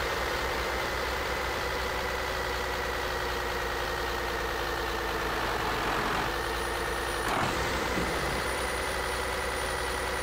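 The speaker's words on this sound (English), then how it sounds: "I'm going to go look up the Kenworth T-660 and see if I can't find one that has a similar sound" A Kenworth T-660 truck engine in Euro Truck Simulator 2 idles with a steady, loud diesel rumble and a constant drone throughout, with a faint brief shift partway.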